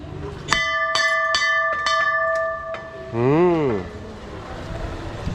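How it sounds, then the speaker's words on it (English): A metal bell at a Hindu temple in Kathmandu, Nepal, is struck several times in quick succession, its bright ringing tones overlapping and sustaining, followed by a passing vehicle horn-like wavering tone and street ambience. "this is a Hinduism temple. Let me see the bell."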